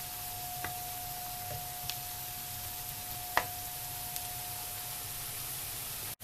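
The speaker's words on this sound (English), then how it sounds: "I'll fry them till golden brown." Food frying until golden brown for Kenyan chicken biryani: a soft, steady sizzle with a faint constant hum and a few scattered small ticks and pops.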